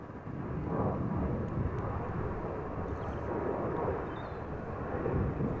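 A KLM Boeing 777 bound for Toronto moves at Amsterdam Schiphol Airport, giving a steady, broad engine rumble that holds at a moderate distance throughout, with no one talking.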